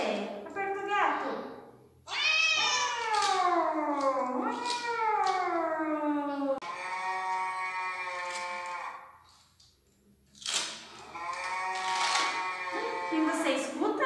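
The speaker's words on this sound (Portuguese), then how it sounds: "Aperta o gato, vamos ver." A communication toy button plays a recorded cat meowing, several drawn-out, rising-and-falling meows in quick succession, loud and close, with a short pause near the end before more meows.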